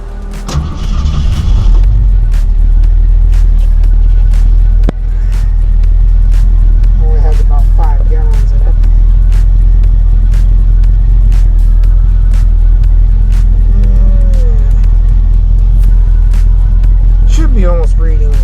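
A 1956 Ford F100 pickup engine runs steadily and close by under a strong low rumble, with voices talking over it at times.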